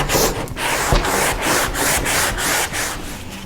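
Hand sanding of wooden kitchen cabinets before painting, a steady rhythmic rasping of sandpaper over wood in repeated back-and-forth strokes, close and fairly loud with no talking.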